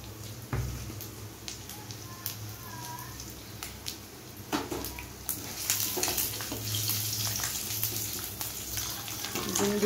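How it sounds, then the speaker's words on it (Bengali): Two eggs frying in oil in a wok, a soft continuous sizzle with crackling bursts that grows louder toward the end, close by with faint kitchen clatter and no talk. "এবার দুটো ডিমটাকে আমি ভেজে নিচ্ছি"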